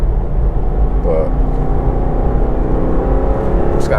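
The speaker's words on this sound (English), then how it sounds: "I thought the car would sound nice in the traffic" A 2020 Subaru WRX drives through traffic, a steady low engine drone and road rumble heard from inside the cabin, continuous and fairly loud with no clear revving.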